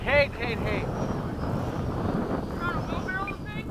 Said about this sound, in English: Whoa, weird wind.